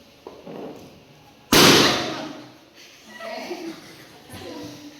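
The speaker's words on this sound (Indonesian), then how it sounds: "Memerlukan waktu sekitar kurang lebih 3 detik agar balon pecah." A balloon bursts with a single loud, sharp pop, followed by faint voices and murmuring nearby.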